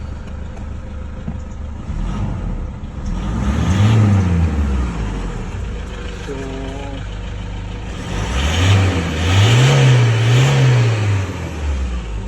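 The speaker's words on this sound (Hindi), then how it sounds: "गाड़ी मैंने स्टार्ट की है" A Toyota Hilux with a 2KD diesel engine, fault-free but losing power, idles close by and revs up twice in rising and falling swells, with a brief spoken word over the engine.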